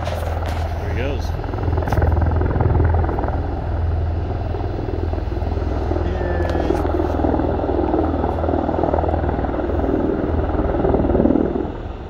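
A helicopter lifts off after refueling, its rotor and turbine producing a loud, steady, throbbing roar close by that holds throughout while people talk underneath.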